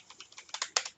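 Keys on a computer keyboard tapped in a quick, uneven run of about a dozen light clicks, nearby and fairly quiet, with a few firmer strokes toward the end.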